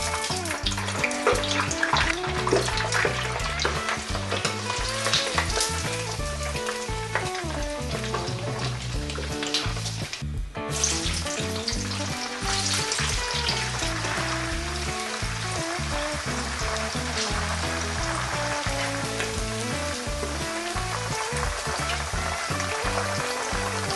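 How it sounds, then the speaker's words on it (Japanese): Ingredients for twice-cooked pork with cabbage being oil-blanched, a loud, continuous bubbling sizzle of hot oil that keeps going with little change throughout. "これで今全ての食材の油通しが終わったんですけど"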